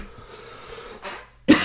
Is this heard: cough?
yes